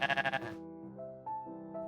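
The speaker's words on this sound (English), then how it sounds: "Look, it's a goat." A goat bleats in a short burst of rapid, wavering pulses, followed by a softer sustained bleat and a brief rise near the end, heard alone and fairly close.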